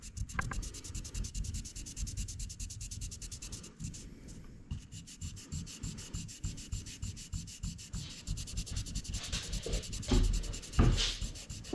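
Steady back-and-forth rubbing of color fill into the engraved lettering on an AR-15 lower receiver, a rhythmic close scratchy friction sound continuing throughout with a few louder scrapes near the end.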